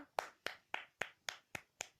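One pair of hands claps eight times at a steady, even pace, each clap crisp and distinct against near silence.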